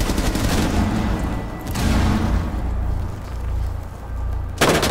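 Gunfire in Rainbow Six Siege, loud close bursts of rapid automatic shots with a few breaks between volleys, ending in a sharp burst.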